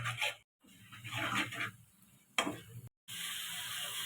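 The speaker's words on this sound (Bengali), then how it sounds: "ভালো করে মশলাটাকে কষিয়ে নেব।" Ginger-garlic paste and chili paste fry in a pan for chicken bharta. A faint, quiet sizzle runs with light scraping from stirring, broken by short abrupt silences.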